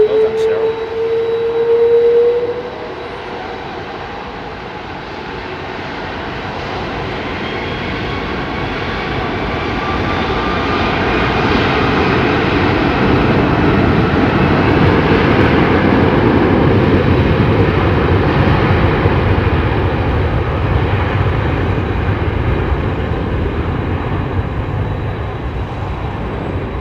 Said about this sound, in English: Long, slow spool up of the Trent 700, man.